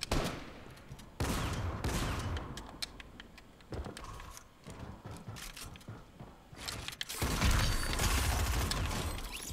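Gunfire in Fortnite crackles in dense bursts, rapid automatic fire and clattering mechanical effects that start and stop abruptly, loud and busy throughout.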